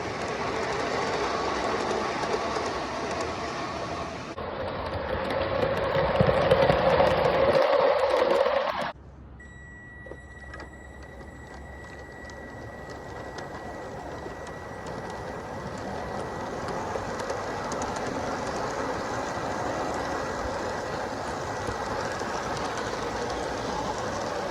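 A K-Line O gauge toy train with K-Line passenger and box cars rolls along its track with a steady rumble and clatter that drops off partway, then continues as a softer running hum.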